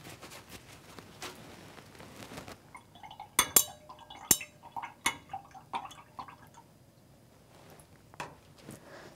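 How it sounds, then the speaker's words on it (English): Glass rod stirring agar growth medium inside a container, giving scattered light clinks and taps against the glass, with a few sharper knocks near the middle, faint and alone. "I'm going to give this a stir with a glass rod"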